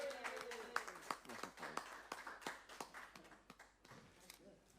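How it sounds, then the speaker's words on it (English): Scattered applause at a Bristol Township council meeting in Bucks County, Pennsylvania, a round of clapping for three department heads, with irregular claps and taps fairly faint in a room, mixed with murmuring voices. "I'm going to offer a round of applause for all 3 department heads tonight."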